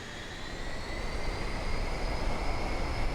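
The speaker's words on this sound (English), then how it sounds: "I love the sound of the B-2." B-2 Spirit bomber engines in Microsoft Flight Simulator 2024 hold a loud, steady jet roar with a thin high whine over a deep rumble as power builds.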